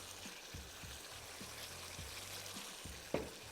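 Masala for a fish curry frying in oil in a pan: a soft, continuous sizzle, close but quiet, with a few low soft knocks and one sharper tap near the end.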